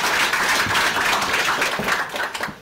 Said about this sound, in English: I'm going to give you guys a round of applause.